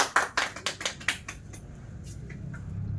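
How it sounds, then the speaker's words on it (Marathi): Scattered hand claps at a birthday felicitation for a village protection squad member in Maharashtra, a handful of sharp slaps in the first second and a half, then fading into room murmur. "टाळ्या."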